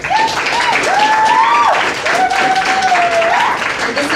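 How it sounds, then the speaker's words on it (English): Loud audience applause and cheering after a drum solo performance, dense clapping throughout with voices whooping and a tonal whistle-like cry rising over the crowd. "Let's put a warm round of applause together for Yuliya and Christina Olsen."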